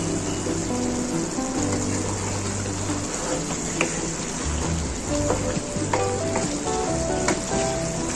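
Kofta curry with a big spoonful of oil added sizzles and fries steadily in the pan, a continuous close hiss with faint stirring scrapes and no talk.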